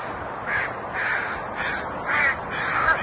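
Crows cawing in a steady series of five harsh calls about half a second apart, moderately near and clear over a soft hiss of outdoor background, with no talking.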